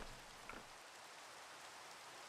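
Steady rainfall in the Minecraft video game, a soft continuous hiss of drops with no talk over it and one faint brief sound near the start.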